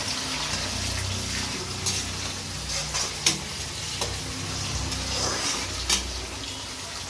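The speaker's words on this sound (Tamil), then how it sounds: "இங்கே பாருங்க, டொமேட்டோ போட்டாச்சு. இது ஃப்ரை பண்ணிக்கணும்." Tomatoes sizzle steadily in a hot pan for an Indian egg curry, a continuous frying hiss broken by a few sharp stirring scrapes and clinks, with no talking.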